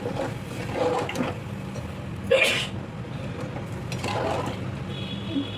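A single sharp sneeze bursts out midway, set off by pungent fumes from spicy home cooking of a vegetable dish, heard close over steady kitchen background noise with faint liquid and clatter sounds around it.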